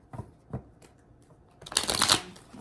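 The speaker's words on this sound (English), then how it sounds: "Alright, let me shuffle this real quick" A tarot deck being shuffled by hand: a few soft taps and slides at first, then a dense, crisp riffle of cards building up near the end, close and fairly loud.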